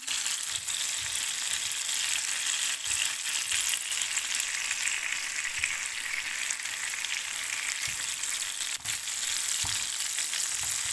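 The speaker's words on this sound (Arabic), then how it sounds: "البصل كده بدا يدبل اهو" Onions softening in a pan for Alexandrian-style liver, giving a steady, dense sizzle with faint crackles and occasional soft ticks, close and continuous, with no talking.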